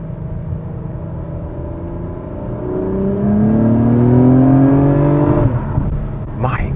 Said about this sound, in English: this engine sounds good when it's at high revs